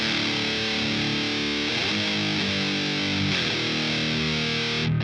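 A thick, heavily distorted electric guitar chord from a Boss Katana combo amp on channel 1 rings out loud and sustained, with a slight shift in the strummed notes partway through.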